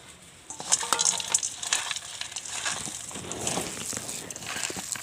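Chopped poha ingredients with coriander, dried green chilli, garlic, chana peanuts and ginger being mixed together by hand in a bowl, giving a steady close run of soft squishing, rustling and light clicking with no speech.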